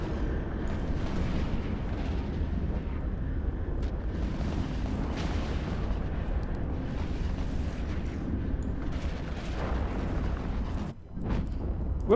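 A ship explodes amid an EVE Online mass battle on the test server, a long, loud, rolling roar of booms and blasts that keeps going for about twelve seconds, briefly dipping near the end before surging back.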